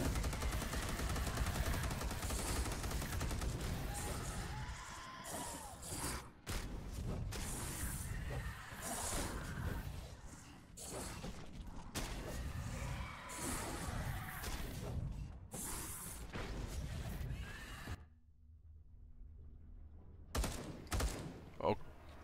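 Rapid gunfire shooting Tyranids in the Space Hulk: Deathwing video game. Dense, loud bursts and clattering mechanical sounds run almost without a break, then cut out briefly near the end before resuming.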